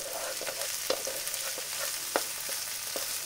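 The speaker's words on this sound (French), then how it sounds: "Je vais y mettre mon oignon émincé et je vais le faire revenir comme ça 2-3 minutes." Sliced onion sautéing in olive oil in a wok, a dense continuous sizzle close by with light stirring clicks and scrapes scattered through it, no voices.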